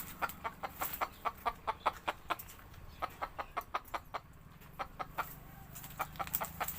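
Three old roosters on a rural Thai homestead cluck in a rapid, steady train of short, evenly spaced clucks with brief pauses, close and moderately loud, with no talk.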